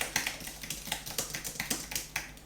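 Brisk typing on an Apple Touch ID Magic Keyboard for the iMac, a steady run of light, crisp key clicks close by, with no talking.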